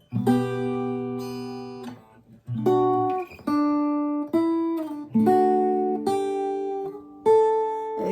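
A clean guitar plays a slow melody of plucked notes and small chords, each ringing out before the next, with short gaps between phrases.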